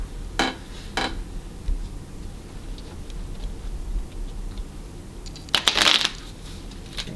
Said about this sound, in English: here I have just a regular deck of cards, and I'm going to have you just shuffle those